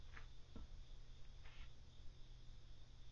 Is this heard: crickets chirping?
yes